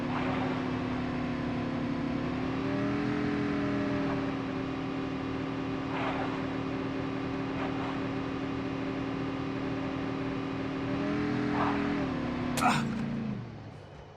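A vehicle drives in Call of Duty: Mobile with a steady, droning engine hum that shifts pitch slightly midway and fades out near the end. A few brief clicks and a sharp snap ride over it.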